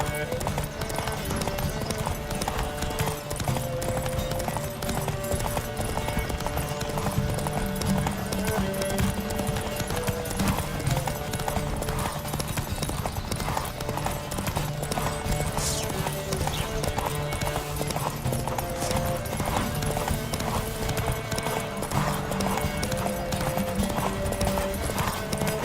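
Horses gallop hard in a race in The Witcher 3, a steady rapid clip-clop of hooves under constant game music and ambience, with riders calling out over the pounding.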